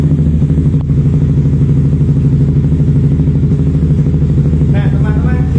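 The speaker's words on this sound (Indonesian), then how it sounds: "kita starter untuk motornya" Motorcycle fitted with an MBRtech A1FI-R quickshifter idling after starting, a loud close steady engine rumble with a brief clatter early on, lasting the whole clip.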